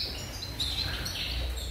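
Canaries and goldfinches in a breeding aviary give faint, high chirps and short tweets over a low background hum, scattered irregularly through a quiet moment.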